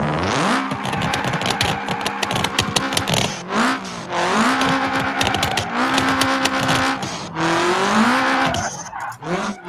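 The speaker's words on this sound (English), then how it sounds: "I'm drifting the Hirachi Sunburst with a pro" Hirachi Sunburst car drifting in BeamNG in sport mode with a pro drift setup, engine revving hard with long rising and falling tire squeals sliding through repeated turns, loud and continuous.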